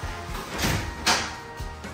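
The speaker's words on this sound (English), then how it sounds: "And you've also got a two-way door" Two-way swinging door in a house moving back and forth, a couple of soft whooshing swings and a light knock, close and brief, with no talk.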